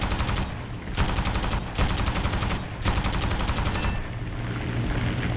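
Machine guns of a CR.32 biplane fighter in War Thunder, loud rapid bursts of gunfire in three or four strings separated by short gaps, over a constant engine drone.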